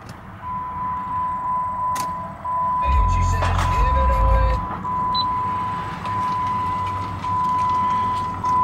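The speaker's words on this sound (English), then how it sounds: "Now we'll go ahead and start the engine here." A 2010 Jeep Grand Cherokee SRT8 with 91,000 miles starts up. A loud, deep cranking and catching rumble lasts about two seconds, then settles to a steady idle, with a constant cabin chime tone running throughout.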